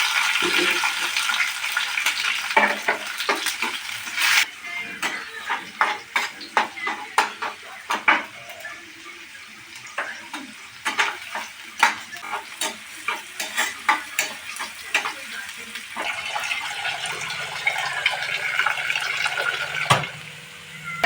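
Chopped onion and green chili frying in oil in a wok, a steady sizzle beneath frequent scraping and clinking of a spatula against the pan, close and moderately loud, no voices.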